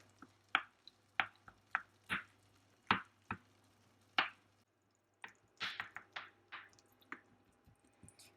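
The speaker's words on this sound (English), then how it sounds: "I'm going to try to cut them small with the same spoon I'm cooking in order to have smaller pieces of tomato" A cooking spoon cuts tomatoes into small pieces in a pan, making a run of soft, wet squishing taps, close and fairly quiet, in an irregular rhythm with a brief pause midway.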